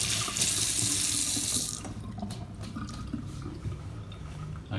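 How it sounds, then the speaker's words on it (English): Tap water runs loudly into a kitchen sink as hands are washed before cooking, a strong steady stream for the first couple of seconds, then quieter splashing and dripping as the flow eases. "always wash your hands before cooking"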